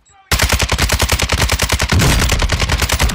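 Rapid automatic gunfire from a shooter video game, a dense loud burst of evenly spaced shots starting sharply after a brief quiet moment and continuing without pause.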